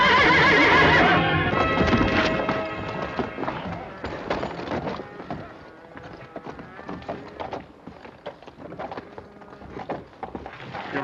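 A horse named Thunder whinnies loudly and close, then hooves clatter and thump unevenly on the ground with some wooden knocks, the neigh fading as the hoofbeats continue.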